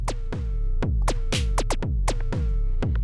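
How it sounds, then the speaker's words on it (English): A punchy Eurorack electronic drum pattern, sequenced by a Hermod into four drum voices and a synth voice, with deep kicks, snappy hits and a sustained synth tone, looping steadily at a brisk tempo. "a sequence from the Hermod going into 4 drum voices and a synth"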